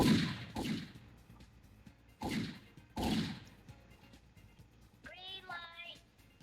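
Several sharp, loud bangs of gunfire ring out in quick bursts in a Roblox video game, with a brief high whistling tone near the end.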